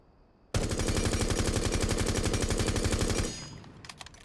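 Sledge's gun fitted with a compensator fires one sustained automatic burst of about three seconds in Rainbow Six Siege, loud rapid evenly spaced shots that stop abruptly, followed by a few faint clicks.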